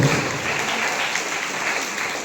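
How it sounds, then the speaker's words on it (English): An audience at a senior class English debate applauds the participants, a dense, steady round of many hands clapping close and loud, holding evenly throughout. "Please put your hands together to give them a huge round of applause."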